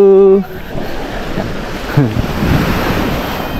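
Sea waves wash onto the shore at Bucana, Nasugbu, a broad, rolling surf roar mixed with gusty wind buffeting, after a short tonal sound at the start.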